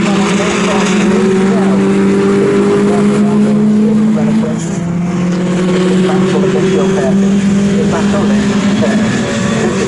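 Racing cars lapping the Donington Park circuit during a championship race, engines droning loudly and continuously with shifting pitch as cars pass, while a commentator speaks over the noise.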